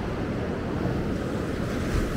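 Waves break and wash back on the beach at Maspalomas, Gran Canaria, a continuous broad roar of surf with wind buffeting the microphone, no voices.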